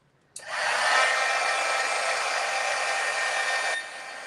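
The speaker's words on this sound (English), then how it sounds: "I'm going to heat dry this really quick." An embossing heat tool blows steadily to dry water-based ink on paper, a loud, continuous whirring hiss that starts abruptly, holds for about three seconds, then drops to a softer hum.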